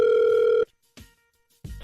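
Telephone ringback heard while placing a call to a radio show, one steady loud electronic ring tone that cuts off, followed by short bursts of line noise and quiet gaps.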